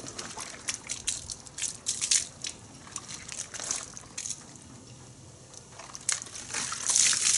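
A wash mitt sloshing in a bucket of clean rinse water and scraped along a plastic grit guard, with watery swishes, splashes and gritty rubbing bursts recurring irregularly at close range.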